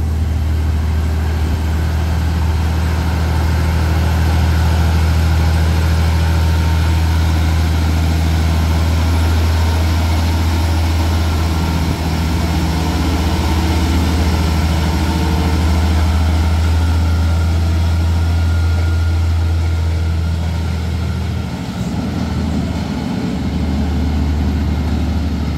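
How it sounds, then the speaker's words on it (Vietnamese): Chenglong H7 heavy truck hauling a heavy load slowly up a mountain pass, its engine a loud, constant low droning roar with deep rumble, steady for nearly half a minute with no speech. "Tiếng máy, tiếng động cơ khi phải kéo hàng nặng leo đèo rất là ồn luôn."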